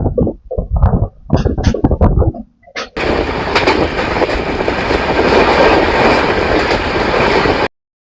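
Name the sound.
Kolkata–Balurghat Express train running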